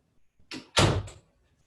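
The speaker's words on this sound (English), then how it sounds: "When I shut the door to keep the noise out" A home-office door shut with a soft push, a brief scrape followed by a solid thud and short latch click, heard close and alone in a quiet room.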